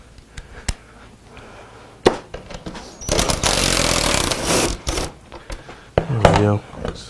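A power drill with a 10mm socket spins out the seat pan bolts on a 1997-2003 Ford F150, a sustained whirring burst in the middle with short clicks and knocks before and after, close by.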